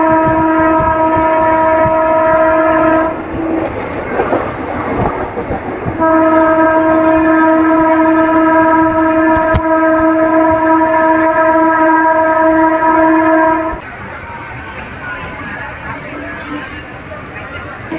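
A MEMU passenger train on the Narasapur to Guntur line rumbles along loudly and steadily, its horn sounding in two long sustained blasts separated by a short gap, with a murmur of voices mixed in.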